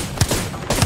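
Gunfire from a Predator-lobby battle royale match, two sharp shots about half a second apart over a steady game-sound bed, loud and close with no talk.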